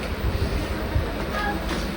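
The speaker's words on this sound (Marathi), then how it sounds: "सगळी मोकळी ट्रेन आहे मित्रांनो, आणि आम्ही या मोकळ्या ट्रेनमध्ये चाललोय मित्रांनो." Steady rumble and rattle inside a moving, nearly empty train carriage, with a constant low drone and faint clattering throughout.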